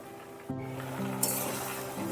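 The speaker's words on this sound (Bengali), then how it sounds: "দুটোকেই ভালোভাবে একটু নাড়িয়ে চালিয়ে দিচ্ছি সমানভাবে" Cauliflower and winter mixed vegetables stirred in a pot, with a soft sizzle, a sharp metallic clink of the utensil against the rim, and scraping strokes nearby.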